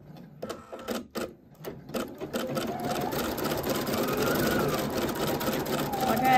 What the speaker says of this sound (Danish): nu er jeg klar til at sy min snifnuk